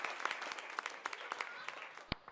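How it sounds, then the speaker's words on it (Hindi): Quiet scattered applause from a small comedy show audience, a patter of claps under faint crowd murmur, ending with one sharper clap. "एक बार अपने लिए तालियां बजा दो यार सारे आप लोग, अपनी मौजूदगी के लिए तालियां"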